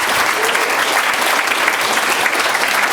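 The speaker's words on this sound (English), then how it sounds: "So how about a round of applause for all of them." An audience claps for healthcare workers and first responders at a community recognition event, sustained, even applause filling the whole moment without a break.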